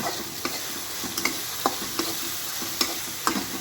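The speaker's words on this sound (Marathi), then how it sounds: "अशा प्रकारे कांदा व्यवस्थित हलवून घेऊया।" Chopped onion sizzles in a pan with a steady hiss, cut through by regular scraping clicks of a spatula stirring it, close and moderately loud.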